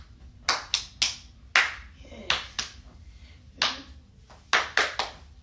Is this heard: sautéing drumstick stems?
no